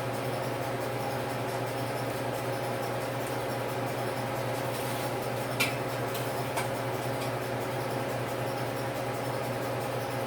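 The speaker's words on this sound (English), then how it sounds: "You can probably hear the washing machine in the background." A washing machine drones steadily in the background, a constant low mechanical hum with faint occasional ticks and clicks.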